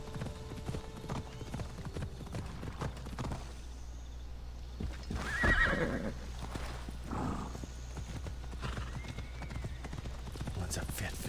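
A horse's hooves clip-clop steadily in Assassin's Creed Odyssey, a rapid rhythmic beat running throughout with a brief whinny midway, while someone talks over the game sounds.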